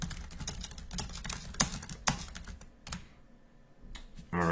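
Someone types on a computer keyboard up close, a quick irregular patter of key clicks that pauses briefly before resuming, quiet and without talk.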